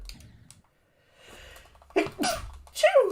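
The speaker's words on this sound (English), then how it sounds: "I'm gonna sneeze." A single sharp sneeze bursts out after a quiet breathy build-up, close and loud, followed by a brief exhale.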